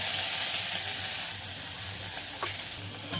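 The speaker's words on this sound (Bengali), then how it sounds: "পেঁয়াজটা একটু ভাজা ভাজা করে নেব।" Chopped onion frying in mustard oil with cumin seeds and bay leaf, a steady close sizzle and crackle in a pan with some stirring, alone without talk.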